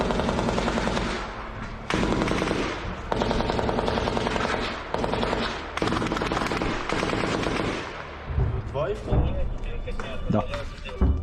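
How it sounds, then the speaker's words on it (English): Sustained machine gun fire in combat near Avdiivka, Ukraine: long, loud, rapid bursts with brief breaks, then shorter sharp reports and shouted voices near the end. "Це наші, це наші. Наш кулемет."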